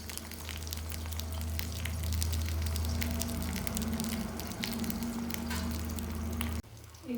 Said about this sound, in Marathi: थोडा मीडियम गॅसवरतीच आपण ही पानं शिजवून घेणार आहे